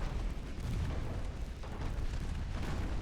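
Naval gunfire in Ultimate Admiral Dreadnoughts: a steady, dense rumble of distant booming shells and explosions that runs unbroken, with no clear single blasts standing out.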